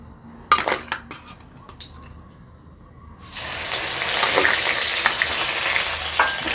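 Two dry red chillies hit hot oil in a pan for a Bengali koi fish curry, starting with a few quiet crackles and then swelling into a steady, close sizzle that carries on to the end.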